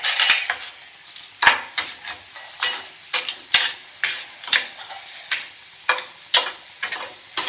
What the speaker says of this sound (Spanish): Ponemos un poquito más de aceite y lo que vamos a hacer es dorar el pan.